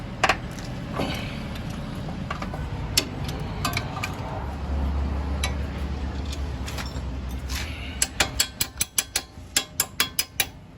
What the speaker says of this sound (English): Undo the two bolts at the bottom of the shock absorber. It uses an 18 mm socket.